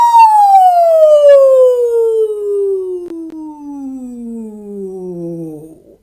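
A single voice imitates a siren, sliding smoothly from a high pitch down to a low one over about six seconds, loud and alone.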